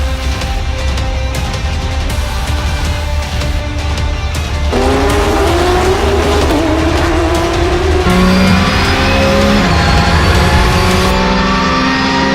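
Porsche GT3 Cup race cars lapping a circuit in Bahrain, loud engines revving and accelerating through rising gear changes as several cars pass close by, with brief tire squeal.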